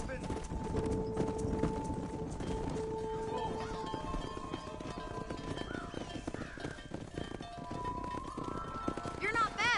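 Horses clip-clopping steadily while herding cattle in the Red Dead Redemption video game, hooves running continuously under game music and background talk.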